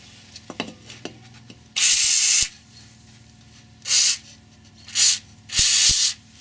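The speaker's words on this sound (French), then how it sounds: "on va balancer de la WD-40 pour espérer pouvoir le dévisser" WD-40 sprays onto a badly rusted part in four sharp aerosol hiss bursts, the longer last ones loud and close, between quiet handling clatter.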